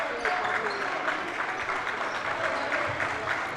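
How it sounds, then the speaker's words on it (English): Rhythmic clapping from the crowd at a Rosholt at Loyal WIAA boys basketball game, steady hand claps in a gym with crowd murmur and a few ball bounces beneath. "the crowd here in Loyal loving the defense that they're playing right now as they're clapping"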